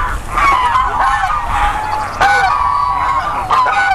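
Geese on a goose farm pond honking loudly and repeatedly from close by, several overlapping calls in an uneven chorus.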